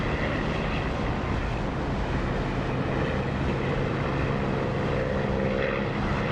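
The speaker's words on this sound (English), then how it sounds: "I love the sound of this engine with it open" Propeller aircraft engine in the DCS flight simulator, heard with the cockpit canopy open: a loud, steady droning roar with rushing prop wash, continuous and unbroken throughout.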